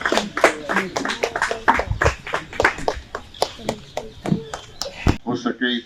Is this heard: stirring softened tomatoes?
no